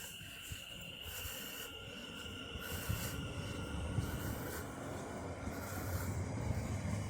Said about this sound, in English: this train's about to depart